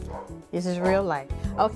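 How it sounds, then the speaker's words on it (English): A dog near a home daycare barks repeatedly in loud, yelping bursts with a whimpering edge, heard close and clear as a person talks over and between the barks. "I apologize for the dog barking"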